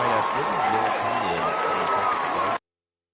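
Loud applause and cheering from a crowd in a played-back clip fill the sound with a dense, continuous roar and shouts, then cut off abruptly.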